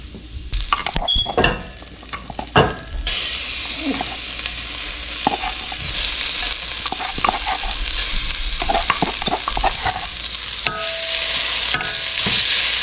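Loud, continuous sizzling of ginger garlic paste frying in hot oil, broken by scraping and clinking as it is stirred around the pan.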